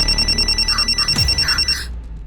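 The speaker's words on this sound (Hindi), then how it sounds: "मैम, मेरी बेटी का फोन है, अर्जेंट है" A telephone rings in a rapid electronic trill, close and fairly loud, several pulsed bursts cutting off after about two seconds.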